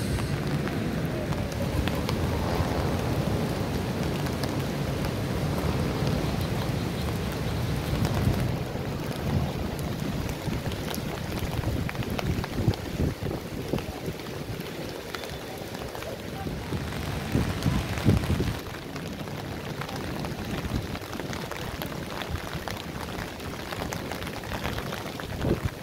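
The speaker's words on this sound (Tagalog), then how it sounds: "inabutan tayo ng malakas na ulan all the way here dito sa may part na ito ng Intramuros" Heavy rain pours down at Intramuros in Manila, a dense, loud, continuous hiss with wind-like rushing and occasional rumbles that carries on throughout.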